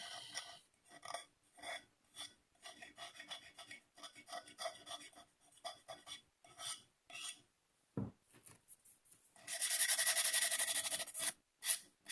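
Fine-grit sandpaper rubbing the rim of a ceramic cup in quick, repeated rasping strokes, close and fairly quiet, with one longer, louder continuous scrape near the end.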